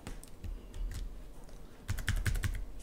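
Typing on a computer keyboard during 3D car modelling in Maya: irregular, crisp key clicks near the microphone, sparse at first, then a quicker cluster of presses toward the end.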